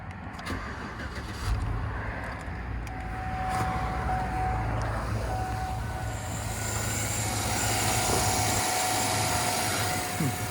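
A 2007 Chevy Suburban 1500 engine runs at a steady idle, a continuous low rumble holding at an even level for the whole stretch with no talking.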